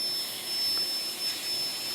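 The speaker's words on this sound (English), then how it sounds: "that handpiece you're using is that the NSK? Presto." An NSK Presto air-powered handpiece runs off a full-size air compressor in a woodturning shop, giving a faint, steady high-pitched whine over a soft airy hiss throughout.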